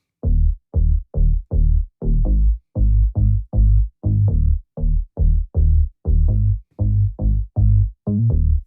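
Solo pop bass line, deep and round, playing a steady run of short punchy notes with a slightly swung, grooving feel, loud and alone without drums or voice.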